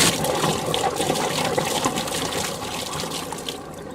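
Water drains steadily out of an opened pool pump strainer, a continuous close rushing gush with gurgling that eases off slightly toward the end.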